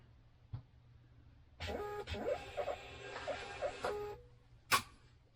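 A label printer runs for about two and a half seconds while printing a shipping label, a buzzing motorized feed with rhythmic whirring pulses, close and fairly quiet, bracketed by a couple of sharp clicks.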